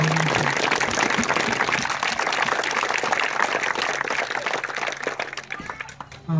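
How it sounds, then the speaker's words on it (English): Steady, dense applause from a crowd celebrating a regional championship fills the air at full strength, then thins out in the last second. "I really would like to give a round of applause to our whole board of directors"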